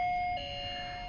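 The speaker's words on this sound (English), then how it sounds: "We have a doorbell." An electronic doorbell chimes in a cruise ship cabin, a steady ringing tone that holds for about a second and shifts slightly in pitch partway through, close and clear.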